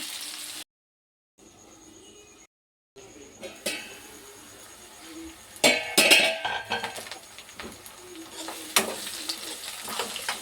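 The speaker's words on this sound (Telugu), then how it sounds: "ఇంకా ఆనియన్స్ అన్నీ కూడా మంచిగా ఫ్రై అయిపోయాయి." Onions frying in a pan for a small-fish curry with fenugreek, a close sizzle that grows louder, with clinks and scrapes of a spatula against the pan and brief gaps of silence.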